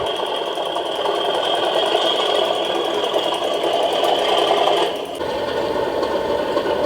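A Kuko model train locomotive gives a steady mechanical hum and rattle, like a running motor with a rhythmic clatter, continuous and fairly close, dipping briefly near the end.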